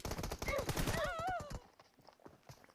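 Video game gunfire, a rapid burst of sharp shots up front that quickly fades into quieter scattered pops and game noise.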